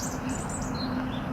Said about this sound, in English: You can hear that robin up there at the moment, chirping away.